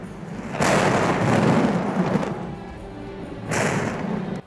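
Two heavy rumbling booms of thunder from a lightning strike in Kung Fu Panda, a long one followed by a shorter burst, loud and broadband with a rolling decay between them.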